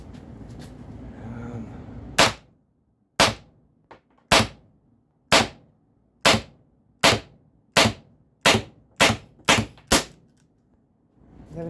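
Pistelle X68 paintball pistol firing a string of about ten sharp, loud shots at close range, spaced roughly a second apart and quickening toward the end, with faint speech briefly at the start.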